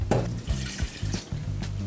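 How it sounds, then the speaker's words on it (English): A cup of water is poured into Zuppa Toscana soup in an Instant Pot, a short, continuous splashing and gurgling pour heard close up, with no talking. "I think it's gonna need a little bit more water, so I'm gonna go ahead and add in,"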